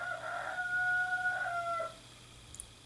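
A rooster crows nearby in one long, drawn-out call with a rising then falling tone, lasting nearly two seconds over a faint steady hum before a brief quiet tail.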